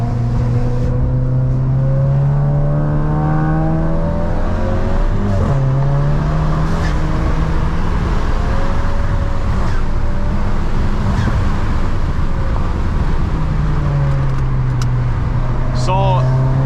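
A VW Golf MK7 GTI in sport mode with traction control off drives over rocks, its engine droning steadily and rising and falling in pitch throughout, loud and close inside the cabin while someone talks over it.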